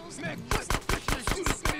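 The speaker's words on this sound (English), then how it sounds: "I'm shooting them" Gunfire in GTA San Andreas, fired as a rapid burst of about eight sharp, evenly spaced shots, loud and close.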